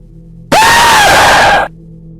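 A sudden, very loud scream from a woman with black eyes bursts out of a quiet room tone in a screamer animation jump scare. One sustained shriek lasts about a second, then cuts back to near silence.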